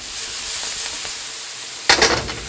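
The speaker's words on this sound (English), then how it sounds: "Just cooking these onions just enough to release some of its natural flavors" Onions sizzle in a cast iron skillet for a pot roast, a steady broad frying hiss throughout, swelling into a louder burst of crackling sizzle near the end, close by and with no voices.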